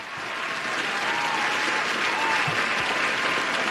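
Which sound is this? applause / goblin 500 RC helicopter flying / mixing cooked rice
applause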